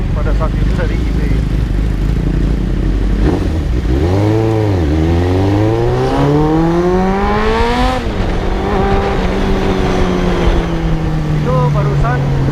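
A 1986 Suzuki GSX-R 750 motorcycle engine revs hard toward 6,000 rpm. Its rising, wailing harmonics climb, dip and climb again, then settle into a loud, steady, high-pitched drone over a rough idle rumble.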